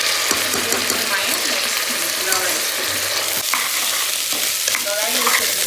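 Vegetable pulao rice being stirred in a hot pan, with continuous scraping and sizzling under occasional spoon knocks, close and fairly loud throughout.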